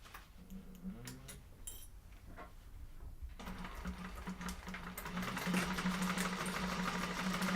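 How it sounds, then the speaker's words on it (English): A sewing machine chain-stitches fabric pieces along a half-inch seam, its motor whirring in short starts before settling into a continuous, steadily louder run, with no voices. "Going to kind of chain stitch these together"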